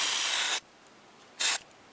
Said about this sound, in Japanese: そしたら次はあのブレードをシルバーで塗装します。